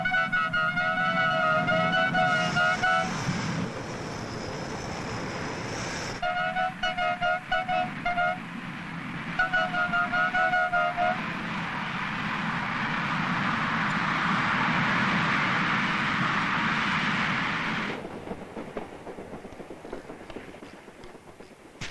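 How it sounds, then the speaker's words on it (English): A train on the Mafikeng to Victoria Falls line in southern Africa rolls along with loud, steady rumbling and clattering, and a sustained horn sounds in several bursts over the first half. "Now, this is what I call train travel."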